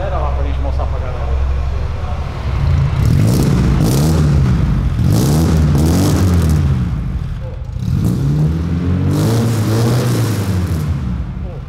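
A lowered Chevrolet Opala Comodoro engine revs repeatedly through a new loud sport exhaust, rising and falling in several bursts with a deep, rumbling, crackly tone; voices are faintly heard beneath.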